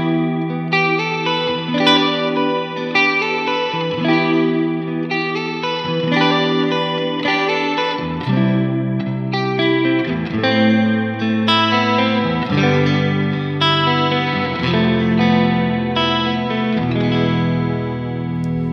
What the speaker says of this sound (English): you can go to deep setting where it's going to add the modulation even before the reverb